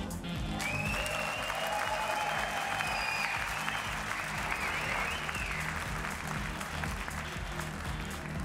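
Boxing arena crowd applauding before a World Series of Boxing middleweight bout, a sustained roar of clapping from a large audience, with a faint voice or whistle rising above the steady wash.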